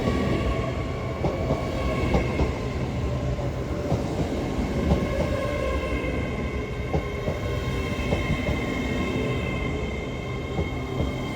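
Train 801201 arriving at Doncaster station bound for Edinburgh, a steady close rumble of wheels on rails with rhythmic clicks and faint high squeals, continuous and fairly loud, without talk.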